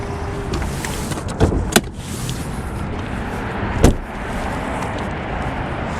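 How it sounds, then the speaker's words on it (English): Hood release of a 2020 Ford Expedition King Ranch being popped, with a few sharp mechanical clunks and a loud latch thud near the end, heard close over steady background noise. "Pop the hood here."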